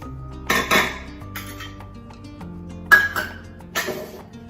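Tea cups and a small tea pot being washed and scrubbed at a sink, giving several separate bursts of clinking and scraping over a steady hum in the background.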